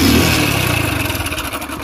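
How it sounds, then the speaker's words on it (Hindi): A 2013 Hero Splendor Pro motorcycle, about ten years old with a discharged battery, kick-started: a loud engine catches and revs up, then settles into a rapid, steady throb close by, with no talking. "इसलिए हम इसको किक से स्टार्ट कर रहे हैं।"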